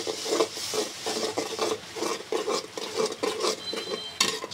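Ginger garlic paste is stirred into beef frying with softened onion for bhuna khichuri, a close rhythmic scraping and clinking of a spoon against the pan, repeated strokes about every half second.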